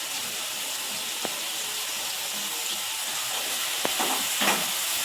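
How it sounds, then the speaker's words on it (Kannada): Light frying in a pan gives a steady, soft hiss with a few sharp clicks and brief bursts toward the end, with no talk. "ಜಾಸ್ತಿ ಫ್ರೈ ಏನು ಮಾಡಬಾರ್ದು, ಲೈಟಾಗಿ ಫ್ರೈ ಮಾಡ್ಕೋಬೇಕು"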